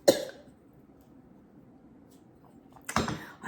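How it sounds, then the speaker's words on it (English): A single short cough right at the start, then a quiet stretch, and another brief throaty burst near the end. "little bit of a cough."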